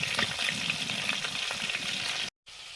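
Sundari crabs sizzle in a pan, a steady close frying hiss with light crackles and clatter, broken by a short moment of silence near the end, with no voices.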